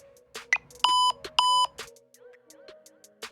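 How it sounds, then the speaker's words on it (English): A phone's text message notification plays as two identical bright electronic tones, each held about a third of a second, set among short clicking and tapping sounds in a quiet room. "Text message."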